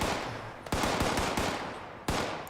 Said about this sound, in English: I hear more of them firing over there.